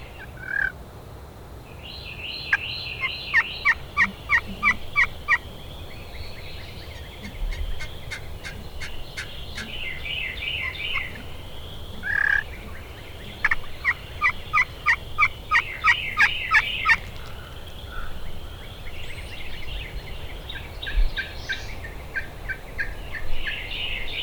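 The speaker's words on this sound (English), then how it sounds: "I'm switching between my box call and slate call, trying to sound like multiple hens." Repeated turkey hen yelps and clucks from a box call and a slate call, in several rhythmic bursts of sharp notes over a quiet outdoor background with some wind, near a hayfield.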